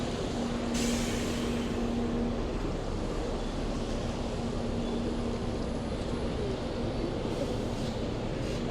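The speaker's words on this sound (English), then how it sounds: "So many buses." Dense London street traffic with buses rumbling past, a steady broad roar of engines and road noise filling the scene, with a brief hiss near the start and a faint low tonal hum running through.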